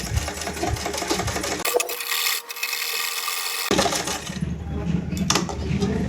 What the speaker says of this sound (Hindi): फिर इसको नीचे करें और इस तरह से सिलाई लगाएं।